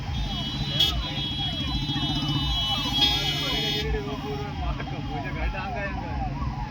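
A police vehicle siren wails in a steady, repeating rising-and-falling pattern on a busy road, loud and continuous throughout, heard from a bicycle amid traffic hum and a brief horn toot.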